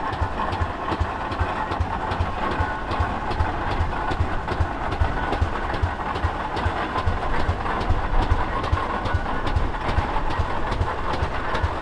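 A 1918 Rumley Model F one-cylinder tractor, a Cornfield Special, runs at a threshing bee, its engine thumping in a fast, steady rhythm of evenly spaced beats under outdoor background noise.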